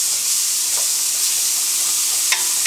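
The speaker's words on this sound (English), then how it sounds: "we're going to add our onion and our garlic to the pan" Onion and garlic hit a hot pan that already holds browned fond from pork scallopini, giving a loud, steady frying sizzle with a few faint clinks of stirring.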